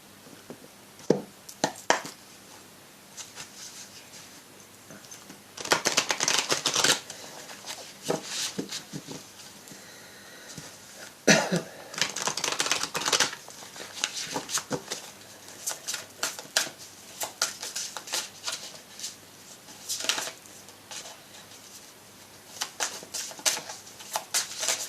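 Lumière de Fée oracle cards shuffled by hand in repeated bursts of crisp riffling and soft slapping, fairly close, with quiet pauses between runs and no talking.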